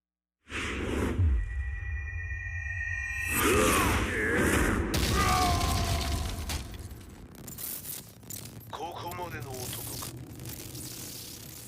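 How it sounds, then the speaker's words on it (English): An explosion at the Mishima dojo in a Tekken cutscene, with whooshing rushes and rumbling booms, a burst of swelling blasts and debris noise, with voices speaking between the effects. "Explosion confirmed at the Mishima dojo."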